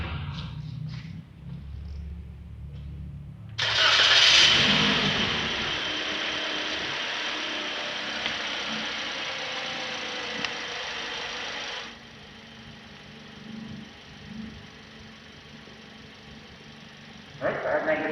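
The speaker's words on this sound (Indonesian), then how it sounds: "Kita nyalakan mesin." A car engine turns over and catches at operating temperature of about 80 to 90 °C, settling into a steady, fairly loud idle that drops lower midway and continues at a constant hum.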